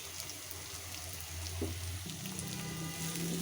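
Onion, cucumber and pointed gourd fry in a pan with a quiet, even sizzle and faint stirring, a low hum underneath.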